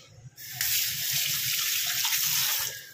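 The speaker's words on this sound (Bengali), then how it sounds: "হাতটা ধুয়ে নিই।" Hands being washed under a running kitchen tap while cooking fish, a steady close rush of water splashing into a sink for nearly three seconds after a short quieter start.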